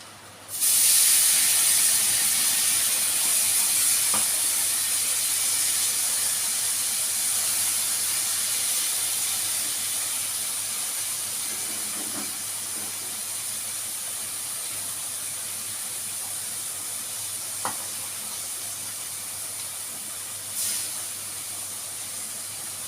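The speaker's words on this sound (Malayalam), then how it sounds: "ഇനി നമുക്കിതിലേക്ക് പുളിവെള്ളം ഒഴിച്ചു കൊടുക്കാം കേട്ടോ" Tamarind water hits hot fried masala with chili powder and erupts into a loud, broad sizzling hiss, steady at first and slowly fading over about twenty seconds, with no talking.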